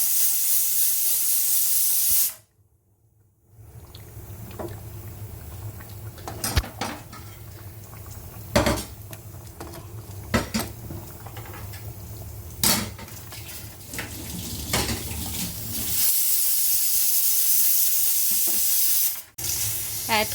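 Pot of water or broth at a full boil while cooking prawn-stuffed potol dorma, a steady close hiss and bubbling with a few clinks of utensils against cookware and a brief quiet gap near the start.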